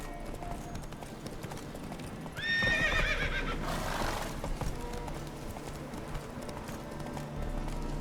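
Roach the horse gallops in The Witcher 3 video game, a steady clip-clop of hooves broken by one loud neigh, with faint music behind.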